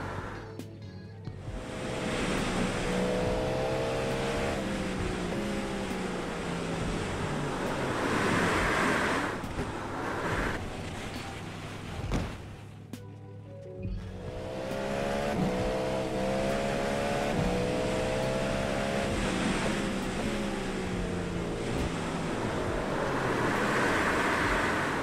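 Racing car in the iRacing sim game spinning out on a rain-soaked track, engine tone rising and falling in sweeping pitch slides under steady spray and wet road hiss, loud and continuous, with a brief drop in the middle.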